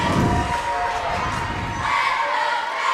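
A big crowd at a boys basketball game screaming and cheering, a dense, continuous roar of many voices filling the gym at steady loudness.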